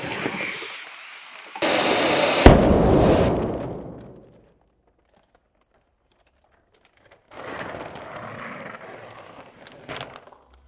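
A big foil balloon being blown up bursts with a sharp, loud pop after a stretch of inflating noise, followed by silence and then rustling handling sounds.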